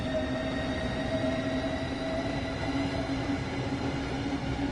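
A steady, close rumble of a train in the Train Sim World 4 video game, on a Southeastern high-speed service, holding even and loud throughout with no talk.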